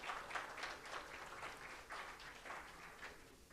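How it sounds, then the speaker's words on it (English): Moderate applause from a group at a Power Learn Project event, steady clapping without cheering that thins slightly toward the end. "So I want to give a final round of applause to all of you."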